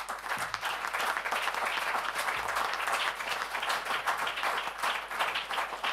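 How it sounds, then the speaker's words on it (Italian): An audience at an Italian book presentation gives a sustained, even round of applause, many hands clapping steadily at moderate volume for several seconds with no talk over it. "a cui vorrei tributare un applauso"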